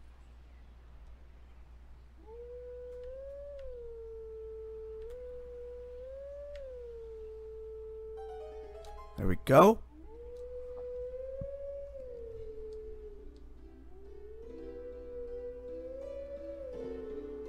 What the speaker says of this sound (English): Definitely the most beautiful howling song.